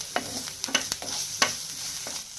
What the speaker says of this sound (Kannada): ಆಮೇಲೆ ಕೆಂಪು ದಂಡ ಮೆಣಸಿನ್ಕಾಯಿ ಎರಡು ಯೂಸ್ ಮಾಡತ್ತೀವಿ ಇವಾಗ ಮಿಕ್ಸ್ ಮಾಡ್ಕೊಳ್ಳೋಣ